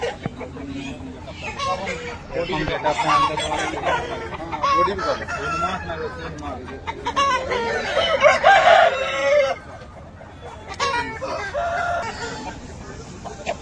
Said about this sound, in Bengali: এই একটা মুরগি দেখালাম, রেড ফাইটার।